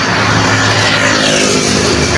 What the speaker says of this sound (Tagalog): napakadami pong traffic po